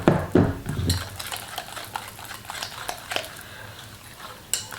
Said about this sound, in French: je vais enlever ma spatule et je vais prendre un fouet pour venir aider à bien